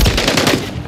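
Rapid automatic gunfire from a Call of Duty MW3 match, a loud, dense burst of overlapping shots running continuously through the moment with no talk.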